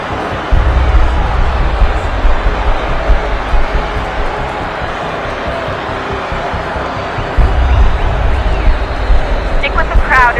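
Steady crowd babble in a city street in the video game Assassin's Creed 3, with many overlapping voices murmuring continuously at moderate loudness and swelling slightly near the end.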